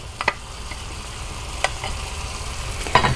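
Finely chopped onion added to browning ground chuck in a pan, a steady sizzle under a few soft stirring scrapes and taps, close and moderately loud.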